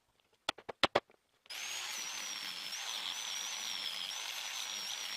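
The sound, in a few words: power sanding with red sandpaper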